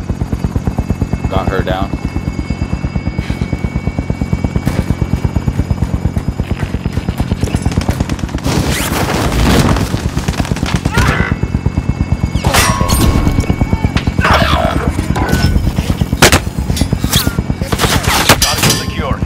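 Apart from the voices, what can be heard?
helicopter with gunfire in video game Call of Duty Modern Warfare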